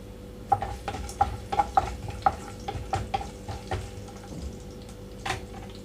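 Tempering seeds and crushed garlic cloves crackle and sizzle in hot oil while a spoon stirs and taps against the pan in irregular clicks, close and clear with no talking.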